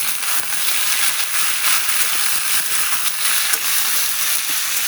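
Fish frying in a pan of hot oil crackles and hisses in a bright, dense sizzle, close and steady for several seconds with no voices.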